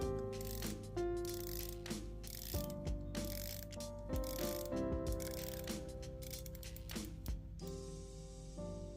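A Seiko SPB297 Save The Ocean dive watch has its rotating bezel turned, giving a run of close, crisp ratcheting clicks in quick irregular bursts for several seconds, with no talking.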